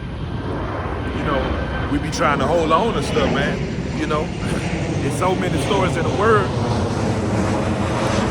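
An airplane drones overhead at a workplace, a steady engine roar under someone talking close to the microphone for the whole stretch.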